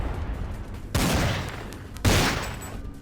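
Two loud, sharp gunshot blasts in the vampire role-playing game Vampire: The Masquerade – Bloodlines, about a second apart, each trailing off in a long echoing decay over a steady game background.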